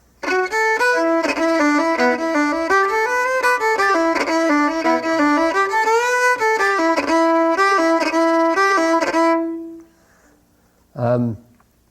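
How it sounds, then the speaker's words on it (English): A lively fiddle melody plays alone, quick notes with fast ornamented triplet figures, then stops abruptly; a brief voice follows after a pause. "the first tune starts off with a couple of triplets"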